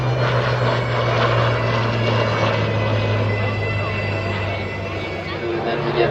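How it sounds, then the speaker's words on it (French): A Spitfire flies overhead at an air display at Villaroche Airfield, its steady, loud propeller-engine drone filling the sky continuously with a constant low hum throughout. "Alors que le Spitfire évolue au-dessus de nous"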